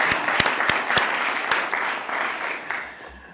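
An audience at a school board meeting gives a short round of applause, a dense patter of clapping from a roomful of people that fades over a few seconds.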